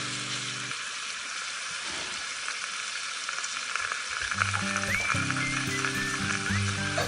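Pork tenderloin rubbed with salt, pepper and a garlic and herb blend sears in a pan with a steady, dense sizzle, with faint background music playing underneath.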